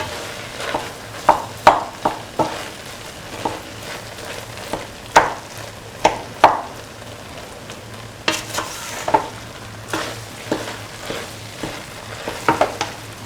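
Mung beans, ivy gourd and rice being stirred in a frying pan: irregular scraping strokes of a spatula against the pan over a steady low sizzle, close and moderately loud, no talking.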